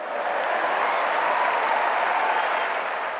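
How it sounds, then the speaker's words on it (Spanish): Crowd applause, a steady dense wash of many hands clapping continuously and evenly at moderate loudness, with no voices standing out. "Empezaron los aplausos, esta vez por las autoridades, y la multitud siguió con gritos y elogios"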